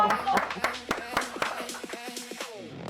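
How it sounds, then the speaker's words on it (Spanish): An audience claps to welcome teacher and student María Olivia Guarneros Rodríguez, a handful of scattered, fairly close hand claps set over a steady tonal background. "Un fuerte aplauso, por favor."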